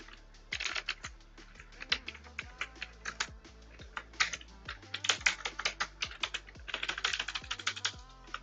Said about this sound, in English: I am having trouble with this keyboard.